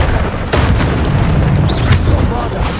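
Bombarda blasting spell exploding in Hogwarts Legacy combat, heavy booming bursts close and loud amid other spell effects, with a voice speaking over the fight.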